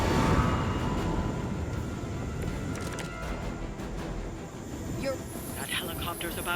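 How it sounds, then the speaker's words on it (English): A helicopter spins up to take off in Marvel Midnight Suns, a broad, steady engine-and-rotor rumble that fills the scene, with a voice partly audible over it. "That helicopter's about to take off"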